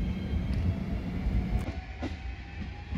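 A JR Shikoku 7200 series local train running on the Yosan Line near Marugame, a continuous close rumble of wheels and motor with faint rail clatter, no voices.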